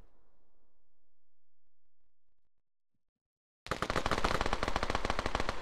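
Rapid machine-gun bursts in a competitive capture-the-flag video game match, a dense loud rattle that cuts in abruptly after a quiet fade and a second of silence.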